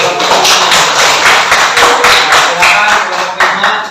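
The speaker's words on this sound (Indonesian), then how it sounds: "Ya, tepuk tangan kelompok 5" Classroom audience clapping for student group 5 during a teaching practice session, a dense, steady patter of many hands close by, sustained and fairly loud throughout.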